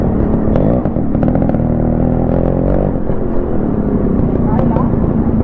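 A two-stroke Yamaha RX 135 motorcycle engine revs hard and accelerates on a top speed run, loud and close, its rising whine steady throughout with a voice talking over it.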